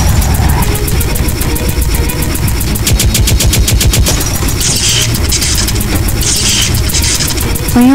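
Rapid machine-gun style gunfire from the Raccoon Rampage arcade game, dense and continuous over loud game music and engine-like effects, with bursts of bright zapping sounds.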